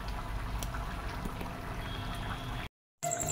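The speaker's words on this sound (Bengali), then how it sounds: "আর এদিকে দেখো মাংস কষানো হয়ে গেছে, এবার জল দিয়ে দেবো।" Water goes into a pot of browned, simmering meat, giving a close, continuous bubbling and hissing of liquid that runs steadily, then cuts out briefly to silence before resuming.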